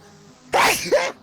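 A single sharp sneeze bursts out, close and loud, in two quick parts, with quiet background around it.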